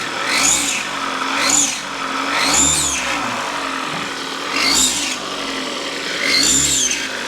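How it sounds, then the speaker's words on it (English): Cheap used Kia Forte engine revved in repeated throttle blips, about five swelling bursts with a high screaming whine over a mid engine drone, close and loud. "gonna blip the throttle for us"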